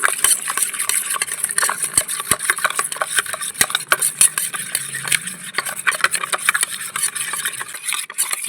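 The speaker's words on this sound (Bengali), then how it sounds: "নুন দিয়ে দিচ্ছি পরিমাণ মতন হলুদ দিয়ে রাখা টক দই ভালো করে সব মিশিয়ে নিচ্ছি" A spoon scrapes and clinks around a bowl as salt, turmeric and sour yogurt are mixed together, with irregular light taps close by over a steady high hiss.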